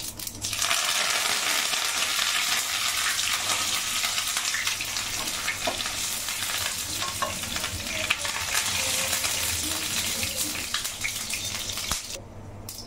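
Curry leaves and fennel seeds with mustard seeds fry and crackle in hot oil for poha, a loud, dense sizzle with scattered pops and stirring scrapes that holds steady, then cuts off abruptly near the end.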